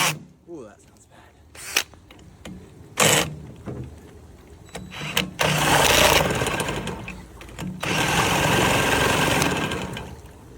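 A 1969 Johnson Sea Horse outboard motor runs roughly in uneven bursts, sputtering and surging in loudness before catching into a steadier rough run, with people talking over it.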